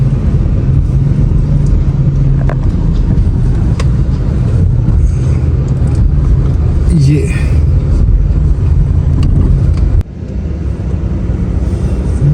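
A car sits in traffic near a mall in Gujranwala, its steady low engine and road rumble continuing under someone speaking, with other passing traffic around it.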